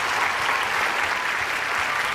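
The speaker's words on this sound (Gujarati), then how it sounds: "તો આ તાળીઓ વાગતી રહેવી જોઈએ." Steady applause from a studio audience at a televised courtroom-style talk show, dense continuous clapping throughout with no talk over it.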